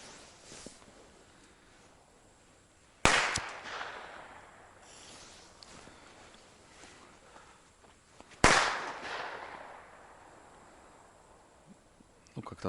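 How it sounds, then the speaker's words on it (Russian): Two sharp, loud firecracker bangs in the taiga by a river at evening, a few seconds apart, each trailing off in a long echo across quiet open forest. "Пару петард."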